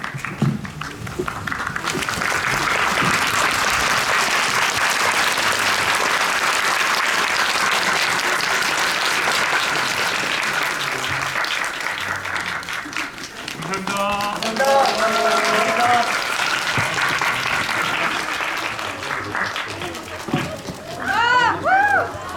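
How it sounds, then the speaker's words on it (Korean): Standing ovation from a film screening audience for the director and two actors, long continuous crowd applause with voices and cheering rising above it in the later part. "우리 일어서서 박수 한번 보내주시면 좋을 것 같습니다"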